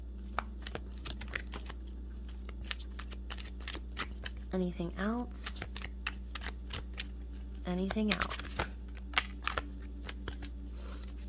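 Rapid, crisp riffling of oracle cards shuffled repeatedly over a steady background hum, with a person speaking briefly twice in between.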